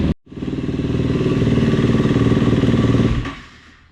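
A dirt bike engine starts after a brief pause and runs with a steady, rapid, close-up putter that holds evenly before dropping away at the end.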